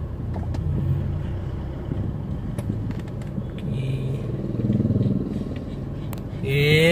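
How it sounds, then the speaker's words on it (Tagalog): Road traffic on a Sunday afternoon, cars and motorcycles rumbling past nearby with engine drone and clatter, one vehicle swelling louder at the end; faint voices occasionally under the noise. "Dito sa amin kahit hapon na traffic pa rin."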